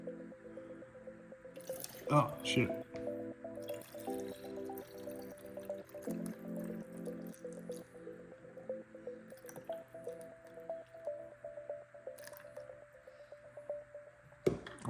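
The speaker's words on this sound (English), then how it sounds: "Now I'm just going to top it up with some water." Water pours into a spray bottle while homemade 3D printing bed adhesive is being mixed, a steady trickling fill with a sharp clatter early on, under a brief muttered remark.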